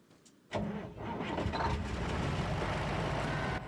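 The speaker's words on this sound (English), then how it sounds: "And also a truck inbound" In the 2005 Resident Evil 4 game, a truck engine abruptly kicks in and keeps up a steady, full rumbling roar as the vehicle bears down, with no voices over it.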